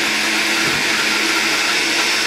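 A blender pureeing cooked food runs at a continuous loud, dense whir with a steady high motor drone, close and unbroken throughout, with no voices.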